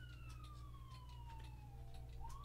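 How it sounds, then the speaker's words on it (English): A distant siren wails outdoors, with a long tone that slides slowly downward and then rises again at the end, over a steady low hum. "Yes, I hear a siren."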